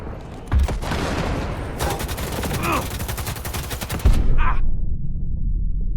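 Rapid bursts of heavy cannon fire in Cyberpunk 2077 hammer in a dense, loud rattling stream, stopping abruptly before a lower rumbling boom and brief vocal grunts.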